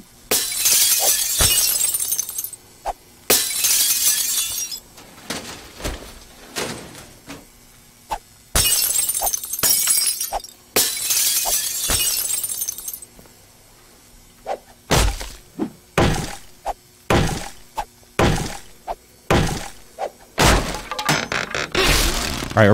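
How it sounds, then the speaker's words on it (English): Wooden supply crates being smashed in the survival game 7 Days to Die, a series of loud, sharp cracking and splintering bursts in irregular clusters, some long and crashing, others short single hits, with no talk. "these are the crates you have to break before you can actually really search them"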